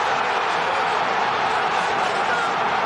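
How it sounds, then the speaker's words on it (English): A football stadium crowd roars after a goal in a Champions League debut, a dense, sustained wall of cheering with commentary over it. "And just listen to this crowd"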